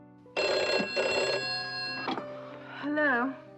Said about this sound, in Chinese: 忽然电话响